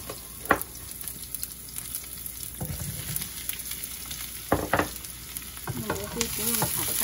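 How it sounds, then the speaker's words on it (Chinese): Mushrooms stir-fry with a little oil and chopped scallions, giving a soft sizzle under scattered scraping strokes of a spatula on the pan. The sounds are close and fairly quiet, with a few sharper knocks. "少许的油，然后少许的葱， 把那个蘑菇炒一下。"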